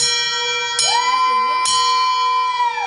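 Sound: cancer survivor's bell being rung in hospital

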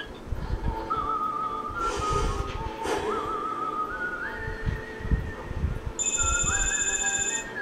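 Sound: phone ringing in the video game inFAMOUS 2

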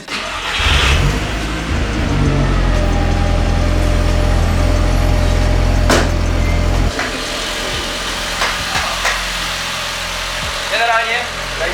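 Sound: Cupra car engine started and running in a garage

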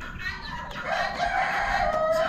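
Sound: rooster crowing

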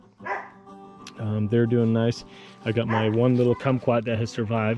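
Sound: dog barking

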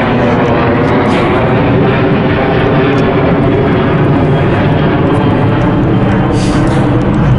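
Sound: airplane flying overhead

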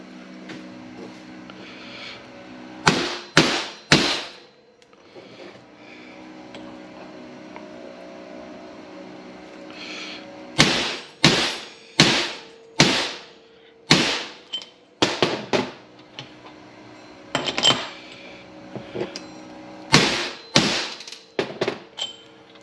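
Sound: hammering transmission bushings in with an oversized bushing driver

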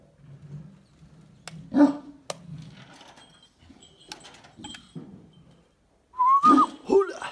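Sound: dogs barking

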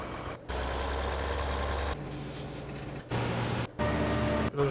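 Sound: tractor engine driving in Farming Simulator 2013 video game

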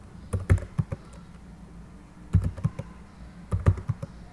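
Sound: typing numbers on a computer keyboard

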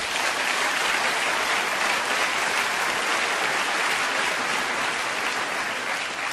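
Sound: audience applause

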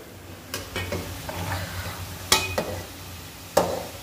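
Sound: boy stirring food frying in pan

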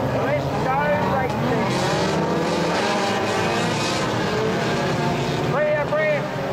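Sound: race cars at the start of a 0-1600cc race

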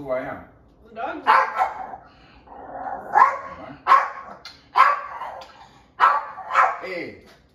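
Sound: person imitating a dog barking

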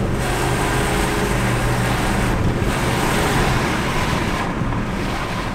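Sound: Audi A8 4.2 petrol engine on highway

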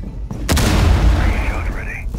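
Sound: breaching charge detonating in video game Rainbow Six Siege

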